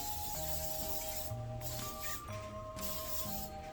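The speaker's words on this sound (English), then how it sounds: "So I'm just going to spray the pan with baking spray." A soft, hissing spray of flour-containing baking spray into a pan in several short bursts, fairly quiet and close, with no voices.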